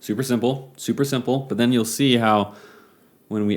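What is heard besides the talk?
None of the usual background noises is heard.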